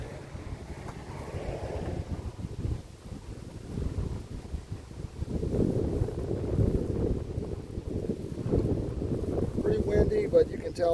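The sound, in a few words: wind blowing at a spillway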